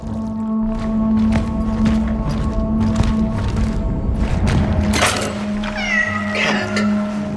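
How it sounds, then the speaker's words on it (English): A cat meows several times in the horror video game Cronos: The New Dawn, rising tonal cries near the end over a steady low ambient drone and scattered thumps, with no talking. "Cat."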